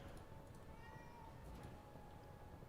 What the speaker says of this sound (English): can you guys actually hear him meowing in the background?